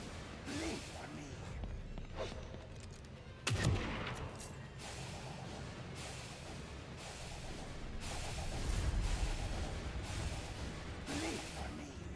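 Sniper rifle shots in the horror video game The Evil Within 2, several sharp booming reports spaced apart over a tense ambient game soundtrack, one especially loud near the middle.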